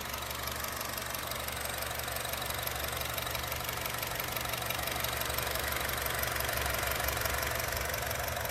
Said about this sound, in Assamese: নৰ্মেল সাউন্ড হয় পেট্ৰল ইঞ্জিন হয়